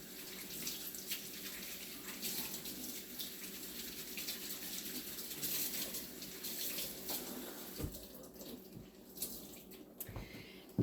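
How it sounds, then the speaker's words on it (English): Hot tap water running steadily to rinse a Norwex cleaning cloth at a kitchen sink, a continuous close rushing wash with a few brief splashes and drips toward the end. "now I'm going to rinse this again so I can use it fresh for the other board with hot water"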